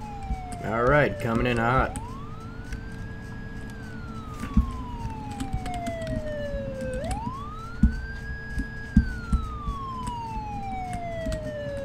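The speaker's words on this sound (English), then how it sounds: "you hear that siren?" Police siren in the Farming Simulator 2015 video game, a clear wailing tone rising and falling in two long sweeps, preceded by brief speech and accompanied by a steady engine hum and occasional clunks.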